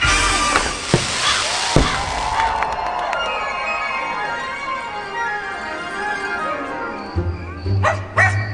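A ghost dog character barks in a Halloween stage show at Mickey's Not-So-Scary Halloween Party at a Disney park, sharp and loud near the start over a busy, echoing mix of show effects and music that fades toward the end.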